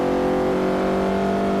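A C-Class car in a racing video game accelerates, its engine giving a steady, loud, sustained drone that holds evenly throughout with no talk.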